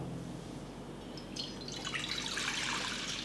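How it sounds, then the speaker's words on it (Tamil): Water pours and trickles into a pan of almonds set to soak, a soft splashing that grows brighter and louder over a few seconds in a quiet kitchen. "அப்படியே தண்ணி இதில் ஊற்றிடுவோம்."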